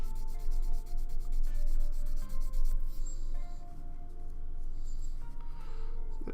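Sandpaper rubbing on a Gunpla plastic model part to remove a nub, a close, continuous scratchy rasp in quick back-and-forth strokes with brief pauses, no talking.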